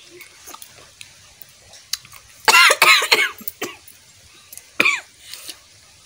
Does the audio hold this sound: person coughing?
yes